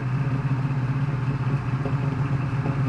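A 1972 Ford Mustang Mach 1 with a numbers-matching 351 engine and aftermarket dual exhaust rumbles steadily during a test drive, a loud, even low engine drone with no talking.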